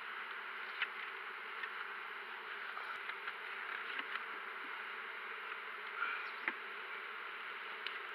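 A honeybee swarm hums steadily while being moved into a new hive, a dense continuous buzz close by with a few louder bees passing near; no speech.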